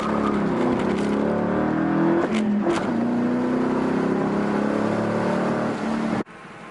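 A naturally aspirated car engine revs loudly and steadily at close range, holding a sustained roar for about six seconds with a brief dip midway before cutting off abruptly.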